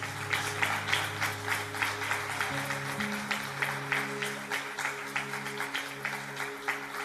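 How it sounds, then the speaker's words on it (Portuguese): Evening church service congregation applauding, rhythmic clapping fairly faint and steady over a sustained low keyboard or organ chord that shifts partway through. "Aplauda o nome do Senhor Jesus nessa noite."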